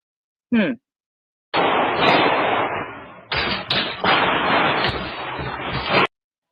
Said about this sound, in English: them gunshots are kind of loud